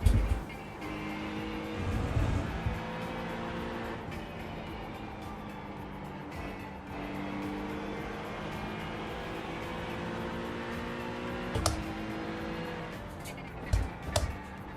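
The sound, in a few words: race car engines passing in a sim racing video game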